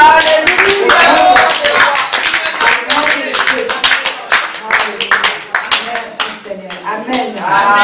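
A church congregation claps and cheers in acclamation during a Mother's Day service, loud close hand claps mixed with voices that settle into a more scattered, rhythmic clapping.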